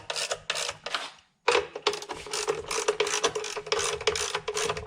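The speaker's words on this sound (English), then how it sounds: "Like I said, 10mm socket. I use a deep wall." A ratchet fitted with a 10mm deep-wall socket works the battery tiedown on a Nissan 300ZX, giving rapid bursts of sharp clicking pawl strokes, close and loud, with one short pause before the cranking resumes.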